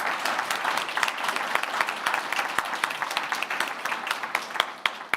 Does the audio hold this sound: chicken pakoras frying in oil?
no